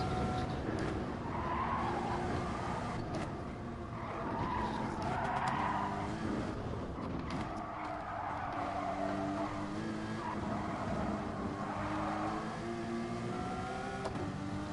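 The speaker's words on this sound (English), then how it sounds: "The Audi accelerates so much faster." Audi race car in the Gran Turismo video game accelerating hard on the Nordschleife, its engine roaring steadily with rising and falling revs, tires squealing and skidding through the turns, no talking.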